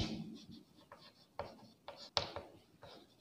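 A pen scratching on paper while writing out a letter, with short irregular strokes and pauses between them, close and fairly quiet, without speech.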